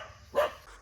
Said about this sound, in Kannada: ಬೊಗಳ್ತೈತೆ ನಾವು ಬಂದಿದ್ದೀರ ಅಂತ ಹೇಳ್ಬಿಟ್ಟು.